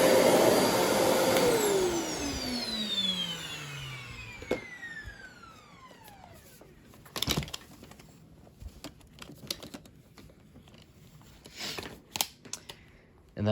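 A 2018 Riccar Brilliance R30D vacuum cleaner runs loudly at close range, its motor pitch falling steadily as it spins down over several seconds, followed by scattered clicks and handling knocks with faint background noise.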